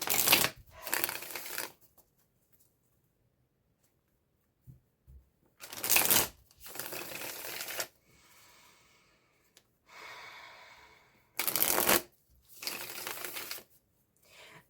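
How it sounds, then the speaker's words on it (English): A deck of tarot cards being shuffled by hand in three short bursts of riffling and slapping, close and crisp, separated by quiet pauses, with faint breathing in between. "and shuffle the cards first."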